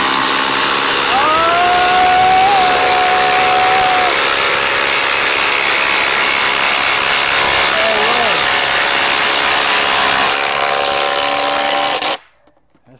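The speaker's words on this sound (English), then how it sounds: "this is their older brushless impact driver, but the HART beat it" Milwaukee M18 and HART brushless impact drivers run in a loud, steady, high-pitched motor whine with a few pitch shifts, then cut off abruptly near the end.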